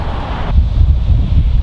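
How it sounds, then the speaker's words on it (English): Strong wind buffets the microphone on a golf course fairway, a loud, low, continuous rumble with gusty fluctuations and no voices. "It's a windy, windy day and it's coming straight back into us."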